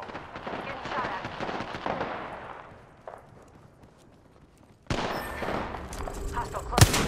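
Gunfire in the battle game Apex Legends: a quieter stretch of game sound and chatter, then a sudden loud burst of rapid shots and impacts from about five seconds on, with a sharp crack near the end.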